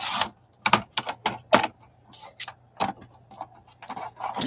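Scissors cutting apart magazine pages, a series of close, crisp snipping and paper rustling sounds in an irregular rhythm over a faint low hum.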